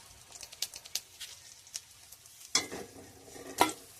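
Pomfret fish and potato pieces fry in hot oil in a pan, giving soft scattered pops and spatters with a couple of louder crackles, fairly quiet and with no talking.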